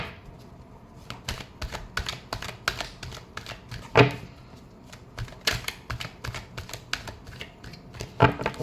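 Tarot cards being shuffled for a love reading, a steady run of dense, close papery riffles and flicks with a few sharper snaps, no talking over it.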